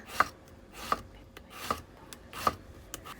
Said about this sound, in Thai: นำมาหั่นค่ะ หั่นไม่หนาไม่บางมากเกินไปนะคะ